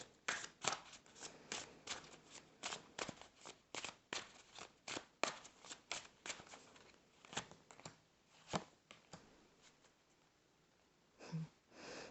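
A deck of tarot cards is shuffled over and over in a run of quick, crisp card slaps with small pauses, close by, with no voices.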